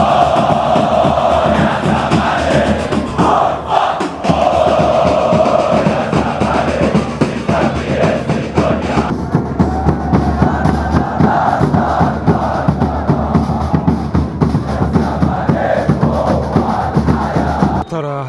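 Zamalek football fans chant in the stadium during an Egyptian league match against Haras El Hodoud, a dense, continuous roar of many voices that holds steady and loud throughout with rhythmic pulses.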